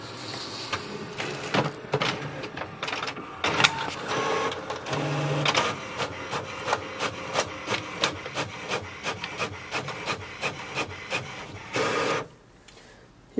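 An HP Envy 6230 inkjet printer making a copy, with whirring feed motors and a rapid series of rhythmic mechanical strokes as the print head moves back and forth, close and steady, ending abruptly near the end.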